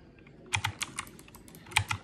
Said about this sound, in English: I'm gonna be playing on keyboard for a little